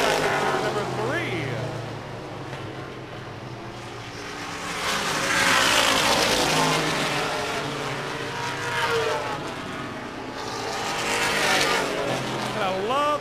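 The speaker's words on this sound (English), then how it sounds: "The sound of some of these old vintage race cars, I tell you what, music to our ears here at La Crosse Speedway." Old vintage race cars roar around La Crosse Speedway, engines rising and fading as they pass in waves, loud and rasping with a broad whine, the pack surging near then receding.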